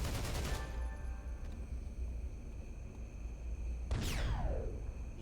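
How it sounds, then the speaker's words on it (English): A flashbang going off in City of Heroes, a burst of crackling bangs at the start and a sharp, sweeping blast near the end over a low hum, with no talk. "I'm gonna hit him with a flashbang"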